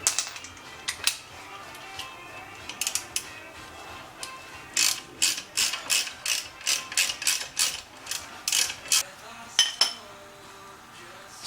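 A 3/8 ratchet removing the brake dust shield bolts on a 1986 Mustang GT during a brake conversion, a run of close, sharp rapid clicking bursts in quick succession, with a few scattered metallic clinks before and after.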